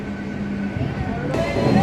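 A passenger train runs along a village route, giving a steady low rumble with a droning engine hum that swells slightly louder toward the end.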